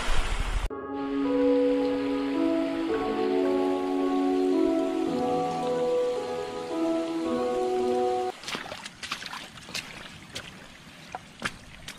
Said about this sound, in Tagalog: Nandito po kami sa ulan.